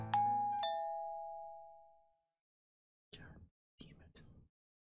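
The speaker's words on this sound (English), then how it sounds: "Just then, the doorbell rings" A two-tone doorbell chimes once near the start, bright and ringing out for about two seconds before fading, followed by quiet whispered voices.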